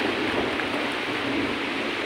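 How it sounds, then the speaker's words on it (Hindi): Heavy rain pours steadily during a sudden storm in India, with a dense hiss of drops on surfaces and a low rumble underneath, loud and unbroken, with no voices. "और बहुत तेज बारिश होने लग गई है।"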